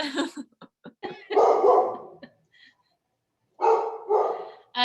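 A puppy barks close up in a run of sharp yips and short barks, separated by brief pauses and followed by two longer, louder yelping bursts.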